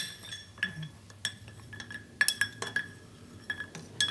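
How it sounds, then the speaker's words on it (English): A coffee amaro cocktail is gently stirred in a glass, with a spoon giving a quick run of light, ringing clinks against the glass and soft scraping between them, close and clear with no talking. "Give it a gentle stir."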